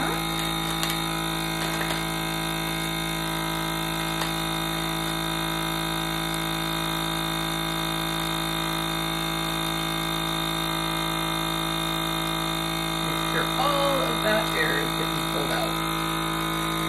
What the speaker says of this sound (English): I really like the vacuum sealer.